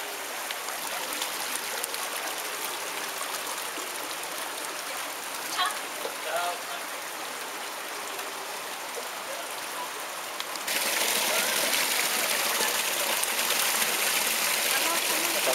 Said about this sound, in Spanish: Canal original de los incas, el agua viene desde el Nevado, el deshielo del Nevado